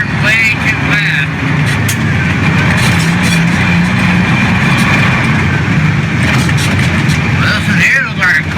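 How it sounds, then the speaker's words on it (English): A car drives along a road near a sharp turn, giving a steady, loud rumble of engine and tyre noise that lasts throughout, with faint voices underneath. "Listen, here looks like a car."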